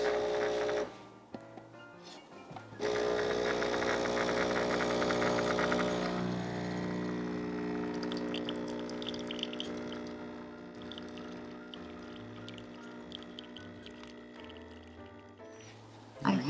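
A Casabrews Ultra espresso maker runs through a pour, giving a steady mechanical hum and pump drone that carries on for most of the stretch before cutting off near the end.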